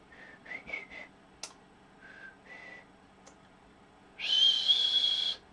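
A person whistles alone: a few short, separated notes, then a longer, louder sustained whistle near the end.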